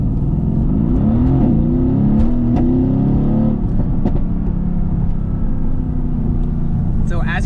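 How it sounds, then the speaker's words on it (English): A car in first gear is floored using the paddle shifters, and the engine roars loudly as the revs climb fast over the first few seconds before settling into a sustained, heavy drone close by. "So right now in first gear, if we floor it, we're gonna go flying."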